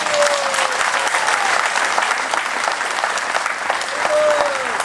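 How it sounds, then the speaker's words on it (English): An evening programme audience at Mon Repos claps in sustained, dense applause, loud and even throughout, with a faint tonal whistle or feedback tone drifting through near the start and end. "give them a big round of applause for what they are doing here now"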